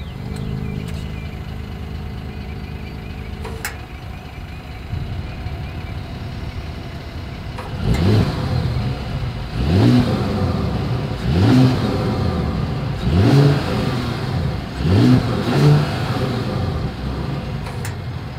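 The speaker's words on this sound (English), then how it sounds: "As always, here is that exhaust clip." The dual exhaust of a 2020 Mercedes-Benz GLS 450 idles steadily, then gives a series of about five sharp revs in quick succession, loud and close, with no talk.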